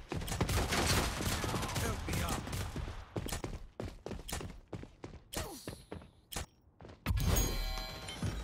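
Shotgun blasts from the Kestrel in a video game ring out in a dense volley of loud, sharp reports, then spaced single shots with thuds between, ending in a heavy burst.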